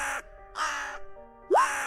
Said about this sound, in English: you hear in the distance that bird that's sitting on top of that cart, kind of doing a bit of a caw